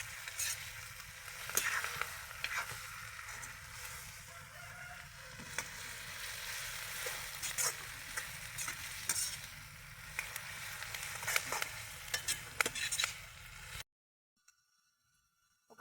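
Coriander and curry leaves crackle in a frying pan for homemade wet manchurian, with a steady sizzle and occasional sharp scrapes of stirring, before stopping abruptly into near silence.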